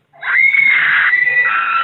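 A loud, sustained scream with a wavering pitch and no pause, set in a campy Halloween spook show.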